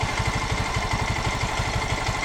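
Motorcycle engine idling with a steady, rapid mechanical ticking from a loose tappet adjuster screw on the intake side, close and continuous throughout.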